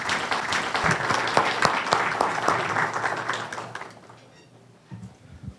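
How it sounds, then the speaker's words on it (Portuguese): An audience applauds the president of an administration council at a municipal governance event in Nova Friburgo, Brazil. The clapping is dense and lively, then tapers off into near silence with a faint rustle at the end. "eu peço uma salva de palmas"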